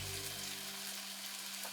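King oyster mushrooms frying in butter in a pan, an intense close sizzle with a faint steady tone underneath early on, continuous across the short stretch.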